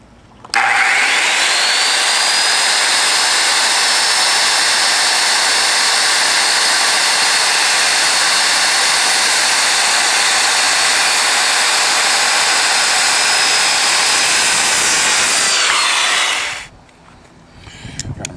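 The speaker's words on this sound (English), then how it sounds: "We are now ready to cut our notches. I'm going to cut the first notch." Power tool cutting a notch into plywood: a loud, steady high-pitched whine that starts abruptly, holds constant for about fifteen seconds, then spins down and stops.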